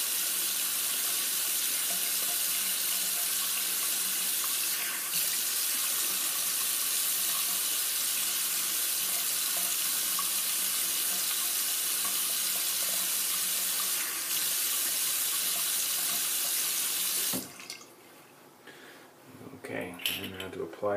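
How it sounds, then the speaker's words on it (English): Water runs steadily from a bathroom tap for a rinse after shaving, a loud, even hiss that continues close by for most of the time before cutting off, followed by faint handling noises. "Just gonna rinse off here"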